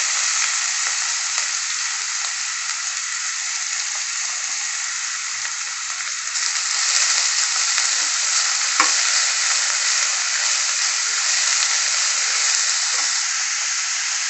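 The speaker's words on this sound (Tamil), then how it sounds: "அதே எண்ணெயில் மசாலா பொருளெல்லாம் சேர்த்துருங்க பொடியாக கட் பண்ணி வச்சுருக்கிறேன் வெங்காயத்தை சேர்த்துக்கணும்" Chopped onions and whole spices fry in hot oil for a Tamil-style dum aloo, a loud, close, continuous sizzle and hiss that grows a little busier as the pan is stirred, with no talking.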